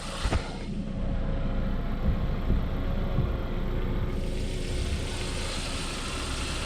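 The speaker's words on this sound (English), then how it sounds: "you actually have to have the engine running for this type" A Saab 9-5 with automatic transmission idles steadily and fairly close, a continuous low engine hum with no revving, alone without voices.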